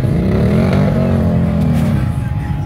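A little Honda three-wheeler ATV engine drones loud and close at an ATV park, holding a steady rumbling tone that rises slightly in pitch, with voices over it.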